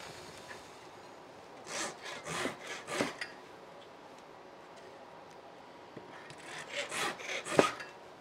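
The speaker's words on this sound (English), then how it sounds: "for demonstration purposes, we'll cut three dowel" A hand saw cuts wooden dowels for breadboard ends in two short, quiet bursts of rhythmic back-and-forth strokes separated by a pause, with no talking.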